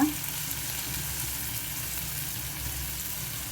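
Onion pieces and chopped bitter gourd frying in oil in a pan for a bitter gourd curry, giving a steady, close sizzle that runs the full length with no talking over it.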